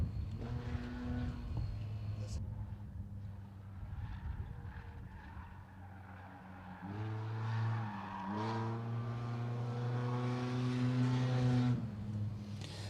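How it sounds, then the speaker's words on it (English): Modified race cars roar around the Willamette Speedway track, their engines droning steadily with rising and falling pitch as cars pass, loud and continuous throughout. "Stephanie Nix continues to work the throttle."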